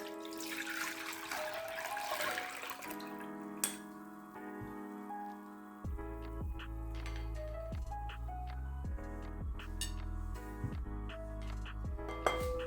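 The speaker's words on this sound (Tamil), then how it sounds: "ஒரு ஸ்ட்ரெயினர் வச்சு வடிச்சிடலாம்." Water from squeezed grated carrot trickles and drips through a strainer with light clinks of metal, steady and close, over a faint background hum.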